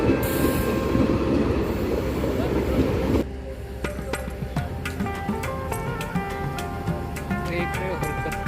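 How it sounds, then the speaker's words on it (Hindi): A passenger train pulling out of platform 1 at Gainsari station in India. A loud rumbling roar gives way to rhythmic wheel clatter and metallic clicks close by. "हमारी ट्रेन अब यहाँ गैंसडी के प्लेटफॉर्म नंबर 1 से चलने के लिए तैयार है"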